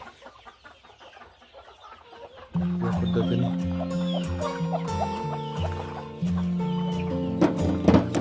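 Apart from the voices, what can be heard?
hens clucking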